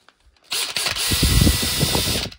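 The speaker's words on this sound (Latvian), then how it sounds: "Un vēl es parādīšu, ar ko es urbu caurumus." Small cheap power drill bought online, running in one loud steady whir for about two seconds with a rattling mechanical edge, used for drilling holes while preparing a greenhouse.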